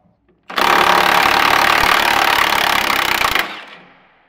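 A 3/4 inch battery impact wrench hammers continuously on a nut on a John Deere mower, one loud sustained rattling burst of about three seconds that then winds down.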